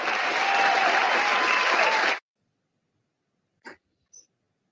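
Webinar audience applause during an Office 365 Excel session, a dense steady burst of clapping for about two seconds that cuts off abruptly, followed by silence with two tiny faint noises.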